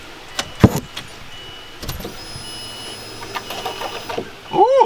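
A Deatschwerks DW200 fuel pump in a 2004 Subaru WRX primes with a steady electric hum that starts after a few clicks, runs for a couple of seconds and ends with a rising whine.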